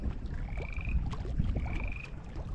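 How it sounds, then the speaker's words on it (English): Frogs croak in a high-altitude mountain setting by the water, two drawn-out trilling calls a second apart, faint against a quiet outdoor background with soft ambient noise. "There's like frogs croaking and woodpeckers smacking trees"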